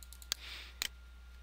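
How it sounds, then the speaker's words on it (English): A computer mouse gives a few faint, sharp clicks, including a quick double-click, against a quiet background hum while someone works in Visual Basic 2008. "Now, double click the Click Me."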